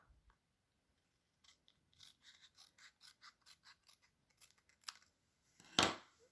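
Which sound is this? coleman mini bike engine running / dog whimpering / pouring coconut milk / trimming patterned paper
trimming patterned paper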